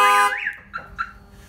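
An add-on alarm on a 2021 Ford F-150, triggered by tapping the glass, lets out a loud warbling siren tone that sweeps up and down, cuts off abruptly, then gives a couple of short chirps and fades to quiet.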